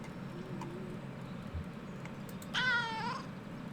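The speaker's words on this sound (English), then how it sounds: "Curious meow." A curious cat meow in the video game Kentucky Route Zero, one short clear call near the end over a quiet background drone.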